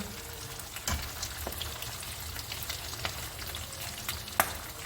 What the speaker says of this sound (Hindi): मछली तो हो रही है फ्राई।